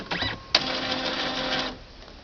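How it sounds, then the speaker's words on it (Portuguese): An Epson inkjet printer powers up and runs its initialization cycle, a brief whir followed by a sharp click and a steady mechanical buzzing of the print carriage for about a second before it stops, heard close and alone. "quando você liga a impressora, ela realmente faz esse processo de inicialização, né, e faz como se fosse uma limpeza dos cartuchos"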